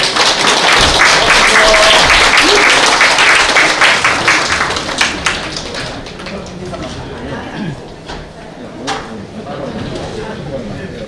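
An audience at a political reform debate in Daegu applauds loudly, dense clapping that fades after about five seconds, with a voice speaking over the tail of it.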